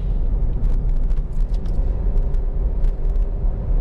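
A Hyundai i20 driven aggressively in automatic D with kick-down on a winding route, heard from inside the cabin as a steady, loud low engine and road rumble that continues throughout with no talking.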